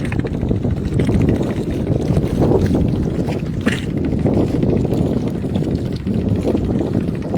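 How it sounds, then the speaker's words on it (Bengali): A boat on a river ferrying people from a sandbar, a loud steady low rumble of engine and water blended with heavy wind buffeting against the microphone, no voices. "চর থেকে মানুষ আসতেছে নৌকা করে"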